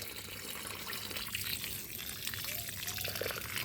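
Quiet, continuous trickling of water being poured onto potted citrus plants on a West Bengal rooftop after an organic fertilizer of rice and lime; a soft, steady stream runs throughout.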